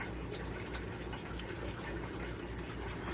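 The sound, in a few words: rinsing Home Depot substrate with water for pleco tank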